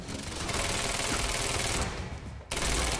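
Dense, loud gunfire fills the action game Quantum Break, with rapid overlapping shots and a brief drop before the barrage resumes.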